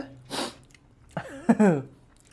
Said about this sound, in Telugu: ఇప్పుడు దాకా తుమ్ములే తుమ్ములు